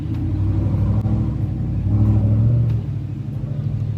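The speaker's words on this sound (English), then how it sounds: "There's this truck that keeps riding by, and this is the fourth time, and it's so loud." A loud truck drives past outside, its deep engine rumble swelling and then fading over a few seconds, heard alone without any talk.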